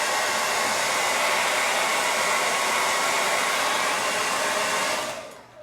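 Hair dryer blowing a steady loud whoosh to dry paint on a painted pot, running continuously and close before cutting off near the end, no talking.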